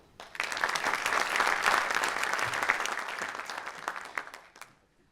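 Audience applause at a regional congress in Castelnau-le-Lez, welcoming a speaker from the mayors' association of Hérault: clapping rises quickly, holds steady for about four seconds with a few sharp individual claps, then fades out.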